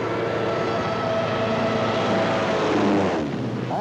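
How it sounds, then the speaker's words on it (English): A dive bomber aircraft's engine roars loud and steady, droning close by throughout with a rising whine near the end, with no voices. "the dive bomber."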